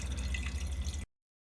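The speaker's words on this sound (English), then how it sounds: "that wasn't too painful with a separating flask to do the dripping" Liquid drips from a separating flask during a chemistry preparation for a homemade nickel-zinc battery, a steady close run of small drips that stops abruptly about a second in.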